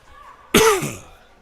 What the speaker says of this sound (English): I just coughed into my mic